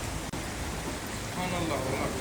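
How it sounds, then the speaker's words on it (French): Steady rain pours down outdoors, a dense even hiss that swells slightly toward the end, with a brief dropout near the start. "Oh la pluie qui fait."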